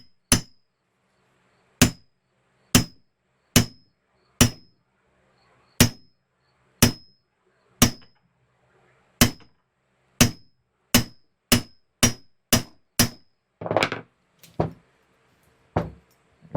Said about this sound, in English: So now we can take our socket and continue to drive this into place.